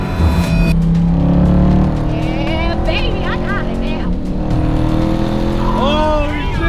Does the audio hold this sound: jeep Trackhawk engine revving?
yes